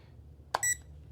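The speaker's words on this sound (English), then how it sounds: "it beeps when it's not level" A green 360-degree self-leveling cross-line laser level gives a short electronic beep, a click followed by a brief bright tone, heard alone over faint low background hum.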